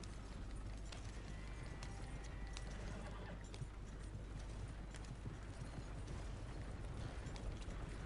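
Horse hooves in the Red Dead Online video game: faint, continuous clip-clop of a trotting horse under a low, steady background rumble.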